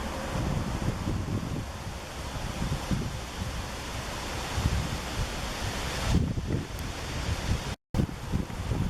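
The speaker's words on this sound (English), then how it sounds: "right next to the lock you have the Swatara Creek, which is where the canal got its water from" Swatara Creek rushes steadily beside a Union Canal lock in Swatara State Park, Pennsylvania. The broad outdoor water noise is mixed with wind buffeting the microphone, and a brief dropout comes near the end.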